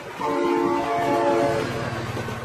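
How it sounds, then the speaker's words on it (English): A train passes in a video game vehicle physics test with a Land Cruiser, its horn blaring in a long sustained tone over rumbling wagons and a rattling clatter, loud and close. "Oh my god, train!"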